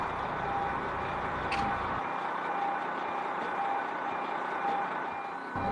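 A fire truck's engine rumbles steadily nearby as it heads out to a call, while a warning beep chirps repeatedly over it, no talking.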